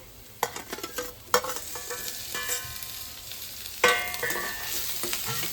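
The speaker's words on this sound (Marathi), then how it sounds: "टोमॅटोला पण व्यवस्थित असं भाजून घेऊया आपण याच्यामध्ये सॉफ्ट होईपर्यंत" Tomatoes fry with onion in hot oil in a pan, giving a steady sizzle broken by several sharp scrapes and clacks of a spoon as they are stirred.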